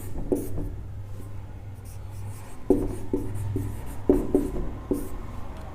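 Writing on a board during a Hindi grammar lesson produces short scratchy strokes in small bursts with pauses between them, close by over a low background hum.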